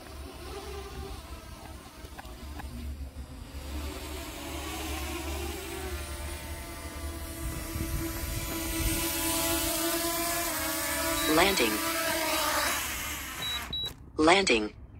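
A small drone's high buzzing rotor whine holds steady, then rises and shifts in pitch as it descends to land outdoors, with people talking nearby and a brief louder clatter at touchdown.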